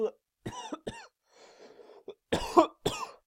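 A series of harsh, rough coughs comes in quick bursts close to the mic, with a brief raspy throat sound between them.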